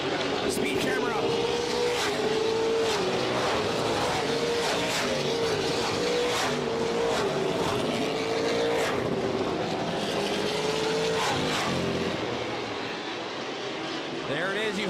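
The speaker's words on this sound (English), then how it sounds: "You heard the roar of the engines in the OSS." Stock race car engines roar at Delaware Speedway, a loud continuous drone with a rising and falling pitch as cars pass, while a commentator talks over it.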